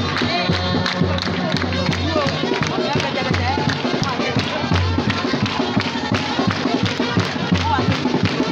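Applause from a gathered crowd of villagers and children honoring a school director at a community event in Diasson, a dense steady patter of many hands with voices mixed in throughout.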